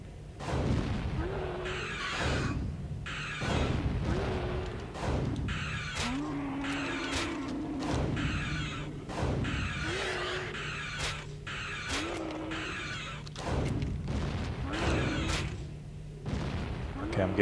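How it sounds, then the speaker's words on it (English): Predator shoulder cannon blasts in the Atari Jaguar game Alien vs Predator, a series of sharp booming shots roughly every two seconds over a steady low game hum, loud and close, with no talking. "Bring out the shoulder cannon."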